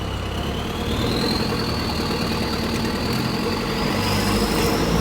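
A modified car engine with a raw, rough note idles steadily up close, a loud continuous rumble with a faint rising whine above it and no talking.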